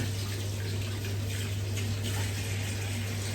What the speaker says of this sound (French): alors je me lave les mains vite fait